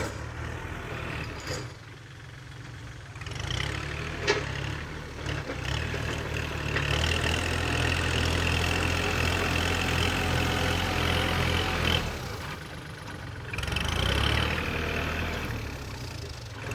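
A Kubota L4018 tractor engine idles steadily with a low, rumbling drone, close by and continuous, with brief dips before settling back into its even hum.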